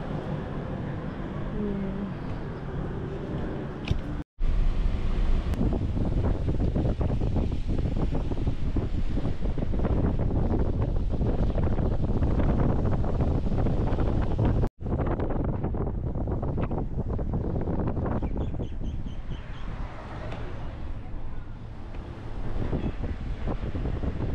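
Strong wind roars across the microphone outdoors in Hawaii, loud and steady, with a brief dropout near the start and another in the middle, and faint voices underneath.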